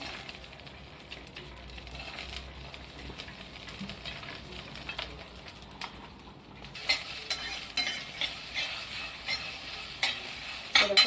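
Mixed seeds and grains dry-roast in a pan for a Bhogi mixed vegetable dish, with a soft continuous sizzle and a steady scraping of the stirring spoon that grows brighter and louder halfway through.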